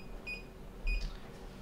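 Two short, clear electronic beeps from a kitchen timer set while muffins bake, spaced about half a second apart in a quiet kitchen.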